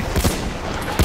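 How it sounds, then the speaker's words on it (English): Machine gun fire in the Battlefield 1 war video game, a short and loud rattling burst of rapid shots in the middle of battle noise. "Enemy machine gun over there!"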